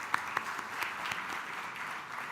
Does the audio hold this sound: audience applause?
yes